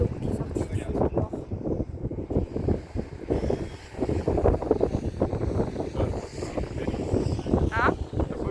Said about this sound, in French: Là, c'est plus tu te rapproches comme ça, et plus tu as du vent.